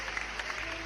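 An audience applauding loudly, a brief dense burst of many hands clapping at once.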